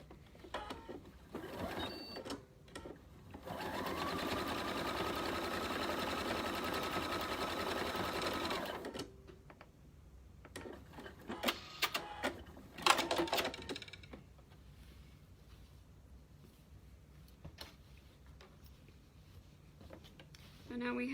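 A sewing machine stitches a pillow hole closed, one steady buzzing run of about five seconds, followed by scattered handling clicks and short bursts of rustling.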